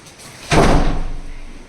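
A door swings shut with a single loud slam, followed by a short decaying rumble in a quiet indoor space.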